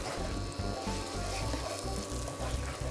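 Ginger garlic paste frying with onions in a pan for a millet recipe, a steady close sizzle with soft stirring scrapes throughout.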